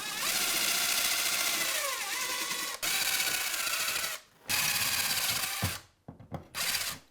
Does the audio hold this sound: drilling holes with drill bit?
yes